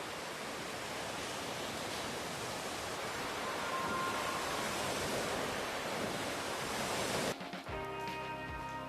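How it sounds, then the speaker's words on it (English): A river rushes in a broad, steady roar that fills the whole stretch and slowly grows a little louder. Near the end it cuts abruptly to quieter ambience with tonal hum. "This scene builds up with the river becoming louder and louder."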